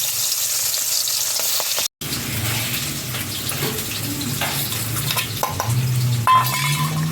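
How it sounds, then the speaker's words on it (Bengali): Hilsa fish pieces rubbed with salt and turmeric fry lightly in hot oil for a mustard hilsa dish, giving a bright, continuous close-up sizzle with a brief break and occasional clinks. "এবার মাছগুলো হালকা করে ভেজে নেব"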